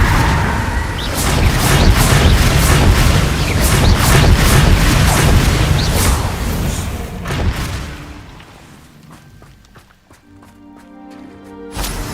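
Spell blasts in Hogwarts Legacy, such as Bombarda and Confringo, land as a dense barrage of loud booms and crashes in combat, then fade to scattered impacts and a tonal hum.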